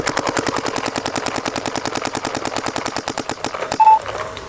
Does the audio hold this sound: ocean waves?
no